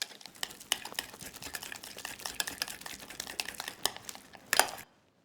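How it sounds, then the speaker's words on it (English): Ingredients with zest and thyme leaves being mixed in a bowl, a run of quick scraping, clicking strokes in an irregular rhythm, close and moderately quiet, ending with a firmer knock before falling silent. "And then just mix those ingredients together."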